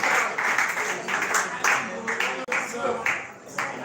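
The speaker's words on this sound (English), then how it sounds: "Please, let's clap for that wonderful performance." An audience claps after a performance at a Nigerian youth coalition event, with steady crowd applause swelling and fading over several seconds under a speaking voice.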